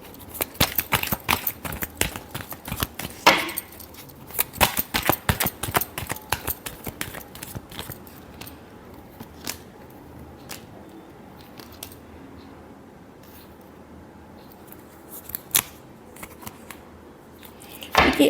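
A tarot deck is shuffled nearby with dense, rapid card clicks for several seconds, then sparser single snaps and a final flurry, heard alone without speech.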